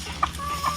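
Farm chickens cluck nearby, with two short, sharp clucks over a low, steady background hum.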